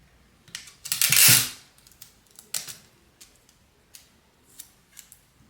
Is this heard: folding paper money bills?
yes